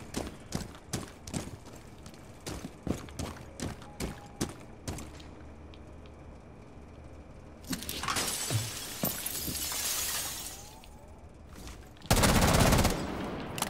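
A standard pistol fired in the tactical shooter Rainbow Six Siege: a string of sharp single shots spaced irregularly. Later come louder bursts of crashing, shattering debris.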